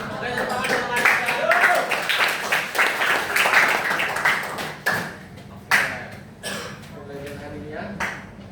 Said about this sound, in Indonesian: tepuk tangan untuk Mariza